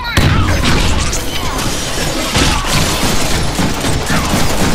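Gunfire in the Deadpool video game, a loud, dense burst of shots and crashing impacts running continuously with little pause.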